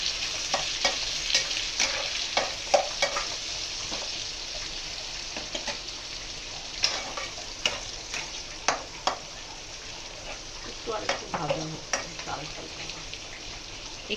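Frozen peas frying over a medium-low flame while being stirred, a constant close sizzle punctuated by repeated scraping and tapping stir strokes at an irregular pace, with no talk.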